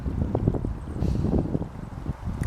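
Gusty winter wind blows near a dense, thin strip of woodland, producing low, uneven rumbling and buffeting close to the microphone.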